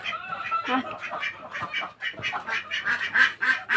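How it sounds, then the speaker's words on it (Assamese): Farmyard Chinese ducks and chickens quack and cluck in a busy, overlapping chorus at close range, with a person talking among them. "এইফালে চাওক চীনা হাঁহ মুৰ্গী সকলো পুহিছে"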